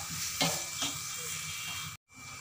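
Carrot chutney stirred in an open pan, with a steady soft sizzle and two or three scraping strokes of the spoon, ending in a brief cut of silence.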